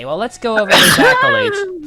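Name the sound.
sneeze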